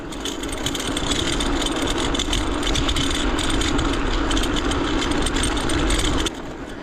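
A delivery scooter rattles over cobblestone pavement, its engine droning steadily under a continuous rough, vibrating clatter that ends abruptly near the close, with no talking.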